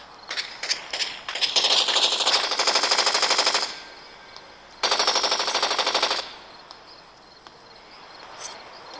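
Automatic gunfire from the video game Blitz Brigade comes in two sustained rapid bursts, preceded by a few scattered single shots, with a faint shot trailing afterward.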